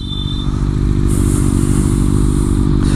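Kawasaki Ninja ZX6R supersport motorcycle engine droning loud and steady while being ridden, a dense rumbling roar with wind rush holding for the whole stretch.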